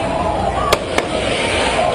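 Two sharp, close gunshots from an AK-47 Kalashnikov in a shootout between security guards and robbers, about a quarter second apart, over a steady wash of background noise.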